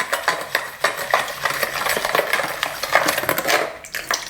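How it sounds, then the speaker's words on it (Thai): A spoon clinks and scrapes steadily against a bowl while stirring a sesame oil and sauce mixture to dissolve sugar, quick close rhythmic taps and swishes. "เสร็จแล้วเราก็จะคนทุกอย่างให้มันเข้ากันเป็นเนื้อเดียวนะครับ แล้วก็ให้น้ำตาลละลายด้วย"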